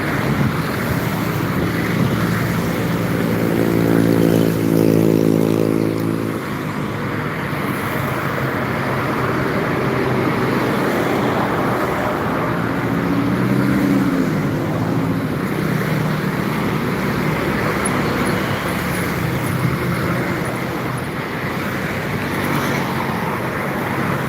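LPG tanker trucks pass along a road carrying traffic toward Java and Sumatra. A low engine drone swells for a few seconds early on, then fades, half buried under constant heavy wind buffeting on the microphone.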